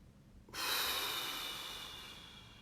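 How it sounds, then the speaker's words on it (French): A slow, steady breath drawn in during a guided meditation session, starting abruptly and sustained as a soft airy hiss for about two seconds, close and alone with no talking. "On inspire dans le périnée."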